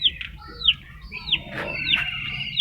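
Chickens clucking nearby, with a few high, sweeping chirps repeating every half second or so over a low background rumble.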